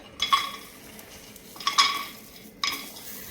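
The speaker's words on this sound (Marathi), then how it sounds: "आता आपण हे शेंगदाणे यामध्ये घालूया।" Peanuts poured into a hot, oil-free pan for dry roasting while making mint chutney, giving three brief, fairly quiet rattling clatters against the metal with short pauses between them.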